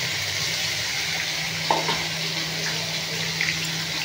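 A steady, hissing sizzle of spice paste frying in plenty of hot oil with onions for a mashed bharta, continuous and fairly even, with a few faint clinks.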